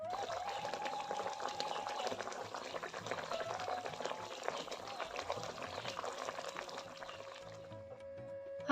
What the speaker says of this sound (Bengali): আমি কিন্তু মাছের ঝোলটা বসিয়ে দিয়েছি কি সুন্দর ফুটতে শুরু করে দিয়েছে